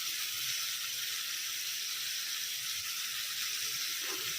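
Boal fish frying in hot oil with turmeric, a steady bright sizzling hiss that holds even and constant from start to finish, close and fairly quiet.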